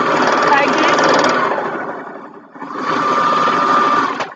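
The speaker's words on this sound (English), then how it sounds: "I will sort of stitch it up from the waist" Sewing machine stitching fleece clothes in a steady close whirring run that pauses briefly midway, then resumes at full loudness.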